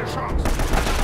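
Gunfire in the video game Uncharted: Drake's Fortune, a dense burst of rapid shots that grows louder and busier after the opening moments, with a voice talking over it.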